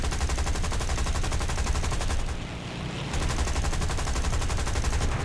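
Rapid machine-gun fire rattles in War Thunder, dense evenly spaced bursts close and loud, a brief lull near the middle before the firing resumes just as fast.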